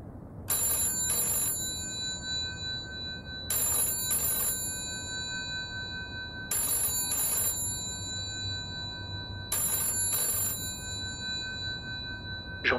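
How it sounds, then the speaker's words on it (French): A telephone bell rings in four evenly spaced double bursts, each pair of bright metallic trills separated by a short gap, over a faint low background hum. "Soudain, le téléphone sonne."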